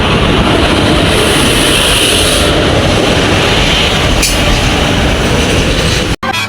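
A passenger train runs along the rails close by in a loud, continuous rumble with a high metallic wheel squeal above it, the noise briefly dropping out near the end.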